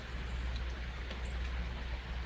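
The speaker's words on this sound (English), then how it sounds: "it decides to rain, which is fantastic because we need the rain, right? And you can hear it." Steady rain falling outside a porch, a soft even hiss with scattered drops, fairly faint and continuous throughout with no talking.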